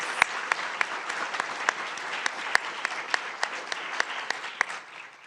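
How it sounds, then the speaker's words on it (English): Sustained applause from an awards ceremony audience fills the room, dense and steady with a few sharper claps standing out, holding level before easing slightly at the end. "Can we please all give them a rousing round of applause?"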